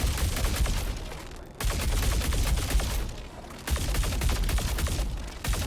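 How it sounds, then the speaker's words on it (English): Fresnel Volt LMG firing in the Star Citizen video game, loud dense bursts of rapid gunfire in three sustained strings separated by brief pauses. "When I fire slow, the bullet will hit hard."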